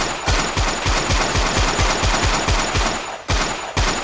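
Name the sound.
pistol gunshots in a video game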